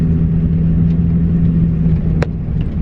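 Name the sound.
car slowly reversing onto gravel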